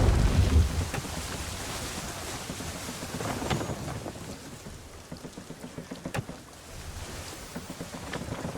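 Cannon fire hits a ship at sea in Assassin's Creed 3, with a heavy low boom at the start. A steady rumbling wash of wind, water and rain-like noise follows, broken by scattered sharper cracks.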